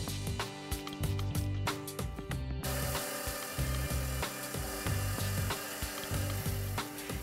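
A saw cutting cross-sections of drilled rock cores, a loud grinding rasp with rhythmic pulsing strokes that rises to a steady, fuller whine partway through.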